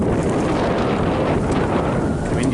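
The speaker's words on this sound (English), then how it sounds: "Windy." Wind buffeting a microphone near a mountain peak on a day hike, loud continuous gusting roar with rough low-end rumble and no talk.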